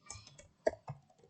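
A handful of quick, crisp computer keyboard key clicks close up, uneven and spaced apart, the keystrokes alone with no talk.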